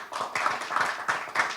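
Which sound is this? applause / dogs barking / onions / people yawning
applause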